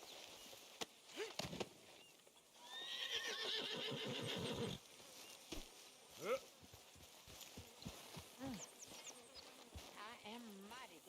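A horse whinnies with a long, wavering call in a Red Dead Redemption 2 scene, followed by snorts and soft hoof sounds, with voices talking around it and faint buzzing insects.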